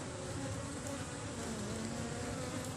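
A colony of Asian honey bees (Apis cerana) being moved to a new hive box hums in a dense, steady, close buzz that holds unbroken throughout, with no speech.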